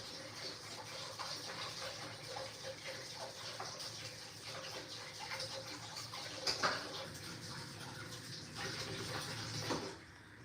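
A kitchen tap running steadily while dishes are washed, a continuous hiss of water with occasional clinks and splashes nearby, ending abruptly as the flow stops.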